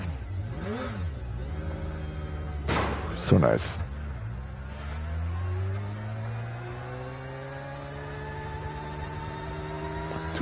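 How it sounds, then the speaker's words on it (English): A supercharged car engine in Gran Turismo 7 revs up and down with rising and falling pitch, a sharp blip in the middle, then settles into a steady drone while a voice briefly speaks over it. "this engine sounds amazing, unique."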